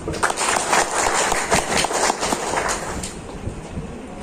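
Steady crowd applause welcomes dignitaries at a teachers' education meeting, a dense patter of many hands clapping together, fairly loud and sustained, tapering slightly toward the end.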